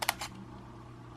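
An Olympus camera shutter fires in a quick cluster of three sharp mechanical clicks right at the start, then only a quiet background hum remains.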